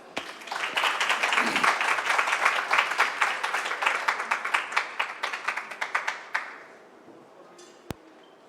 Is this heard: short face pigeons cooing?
no